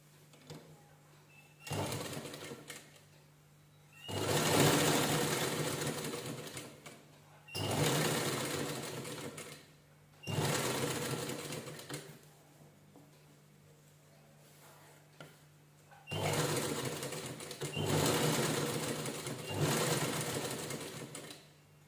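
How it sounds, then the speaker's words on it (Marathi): An electric sewing machine stitches a cushion cover made from blouse fabric, running in several bursts of a few seconds each with quiet pauses between them, loud and close. "आता ह्याच्यानं साईडनं पूर्ण शिलाई करून घेऊया आपण"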